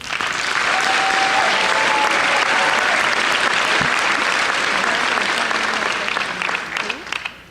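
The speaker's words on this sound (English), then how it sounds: "You certainly deserve a round of applause." Sustained applause from a large commencement audience, loud and dense throughout, holding steady for several seconds before easing off near the end.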